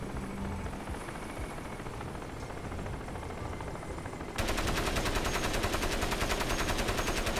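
A steady, thick helicopter drone with rapid rotor chop in the game Crysis, jumping louder and harsher partway through as game combat noise builds; no voices.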